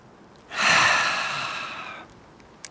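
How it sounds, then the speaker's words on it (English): One long, deep inhalation during a guided breathing exercise, close and breathy, swelling quickly then tapering off over about a second and a half. "Breathing in."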